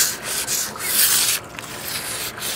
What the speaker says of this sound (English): It's a little bit more sanding, and I'll get some paint on it